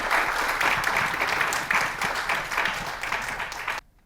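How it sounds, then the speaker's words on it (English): Audience applause for the panelists at a Hong Kong forum following COP28, a steady dense clapping from a conference hall crowd that holds for nearly four seconds before cutting off abruptly. "please give me a round of applause to the panelists"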